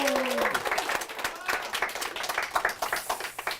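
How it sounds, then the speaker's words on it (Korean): An audience applauds a guest author at a book forum, a short burst of dense clapping that starts right after a speaking voice and keeps going to the end. "박수 부탁드리겠습니다"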